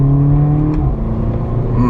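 A Volkswagen Polo GTI engine hums loudly, then the revs drop off with a sharp exhaust pop partway through.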